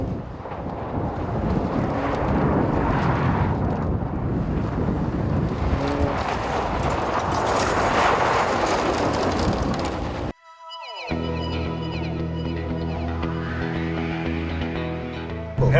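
A 2014 Chevy Sonic Turbo accelerates hard, its engine roaring loud and steady under heavy wind buffeting, then cuts briefly before a rising, whining engine note resumes.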